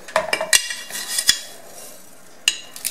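A large spoon clinking against a container while instant coffee is measured out: a few sharp metallic taps in quick succession, then a pause and another clink, close and clear.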